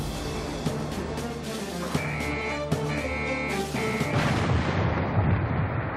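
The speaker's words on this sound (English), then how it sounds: "fired one 16-inch round every 15 seconds, 9 guns firing in rotation, reloaded in under 1 minute per barrel" The battleship Missouri's 16-inch guns firing in rotation, with several heavy booms spaced a second or so apart, rolling over a continuous background bed.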